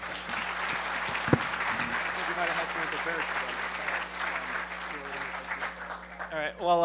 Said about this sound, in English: Okay, Phillip, Torrone, Lady Ada, give them a round of applause.